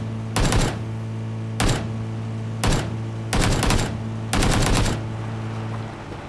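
Automatic weapon fire in a multiplayer shooter video game comes in five short rattling bursts, spaced about a second apart, over a steady low hum.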